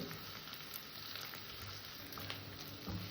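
Ginger garlic paste sautés in hot oil in a pan while a cauliflower curry is being cooked, giving a faint, steady sizzle with light crackles and occasional stirring clicks.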